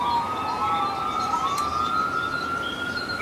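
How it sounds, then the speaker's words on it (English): Ambulance siren wailing outside, a loud rising and falling tone sweeping steadily past with traffic rumble underneath. "Oh, there's an ambulance."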